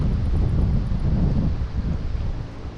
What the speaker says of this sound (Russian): Чересчур сильный ветер поднялся